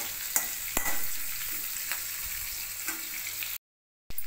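Onions and curry leaves fry in a pan, a steady close sizzle broken by scraping clinks of a spoon stirring, before a brief cut to silence near the end.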